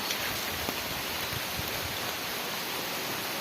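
Steady, soft broadband hiss of rain falling continuously after a storm, with a few faint drips and patters, no voices.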